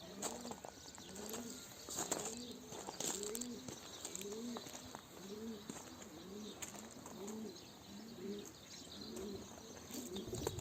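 Several pigeons coo steadily in a repeating rhythm in a loft, close and clear, with faint chirps and rustling in the background.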